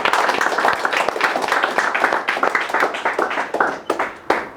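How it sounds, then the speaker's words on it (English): A conference audience claps hands in steady applause, a dense patter of claps that thins out toward the end. "I think we can clap our hands for ourselves"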